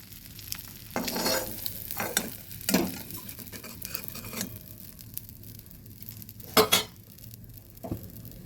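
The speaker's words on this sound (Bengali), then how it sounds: "ডিম ভাজা কড়াইটার মধ্যে দিয়ে দেব চিচিঙ্গাগুলো। দিয়ে ভেজে নিচ্ছি।" Chopped ridge gourd fries in a pan still oily from frying eggs, with a soft continuous sizzle and repeated scraping strokes of a spatula stirring, plus an occasional metallic clink, close by and with no talking.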